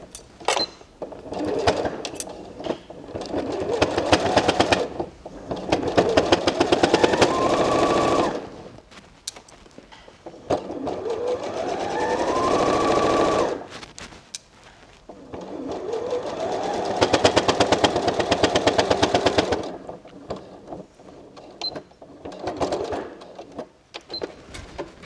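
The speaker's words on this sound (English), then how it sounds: "I think that banging sound is a sure sign that I possibly need to change my sewing needle." A sewing machine stitches along a fabric edge in long rapid bursts with a rattling, banging needle, its motor whining up and down between short pauses, close and loud with no talking.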